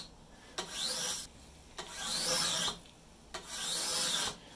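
Three long strokes of a rasp or file scraping wood from a wooden bow limb during tillering, each rough swipe separated by a short pause, close and fairly quiet.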